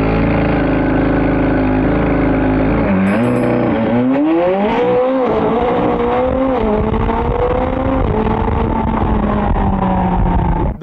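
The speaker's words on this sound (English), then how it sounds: "As I pull in this car into the mid 100." A McLaren 765LT Spider accelerates hard, its engine climbing in pitch through a quick gearshift and then surging again, loud and close with a rising roar and no talk.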